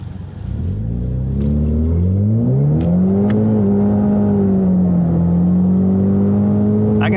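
A Ford Mustang EcoBoost launches hard and spins its tires in second gear, a loud close engine roar rising through the revs and holding steady, with no talk over it.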